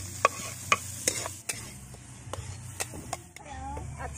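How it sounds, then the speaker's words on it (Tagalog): Garlic and onion sautéing in oil for a spaghetti sauce, a steady low sizzle under sharp clicks and scrapes of a utensil stirring against the pan. "Gisa natin ang bawang."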